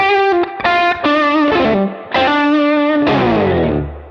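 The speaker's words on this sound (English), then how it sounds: "Just a very lushy overdrive sound, and also I can add the second channel on there." An electric guitar played through a Klon-style overdrive preset on a pedalboard rings out in sustained, harmonically rich chords and notes, smoothly distorted, with short gaps between phrases and a final chord decaying.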